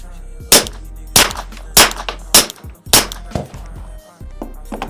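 Suppressed gunshots from a Gen 5 Glock 45 pistol fitted with a Rugged Obsidian 9 suppressor, five sharp reports fired at a steady, deliberate pace about half a second apart, each close and loud with a short ringing tail.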